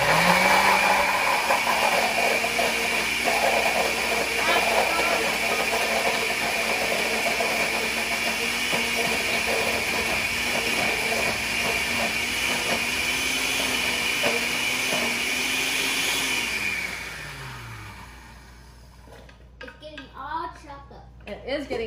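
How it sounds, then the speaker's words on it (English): A blender motor whirs loud and steady while pureeing keto refried beans, then winds down near the end, followed by a few quieter handling noises. "You want a blender or a food processor."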